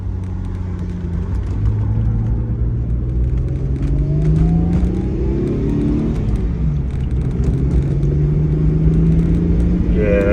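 A late-1990s Subaru car drives steadily with a continuous engine rumble and whir, rising and falling in pitch as it accelerates and eases off, heard close and alone without talk.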